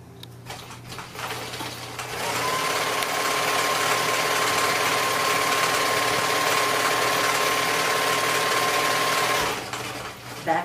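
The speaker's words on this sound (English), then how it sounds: "I always like to start at the top and sew towards the fold in a quarter inch seam." A sewing machine stitches a quarter-inch seam in flannel for a drain bag apron, starting with a few faint handling sounds and then running as one steady, close motor hum for about seven seconds before stopping.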